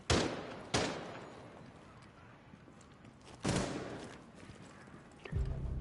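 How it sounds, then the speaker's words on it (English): Gunfire in a Rainbow Six Siege match, a few sharp separate shots with decaying reverb, fairly faint and spaced out over a low background. "Teammates putting in some shots."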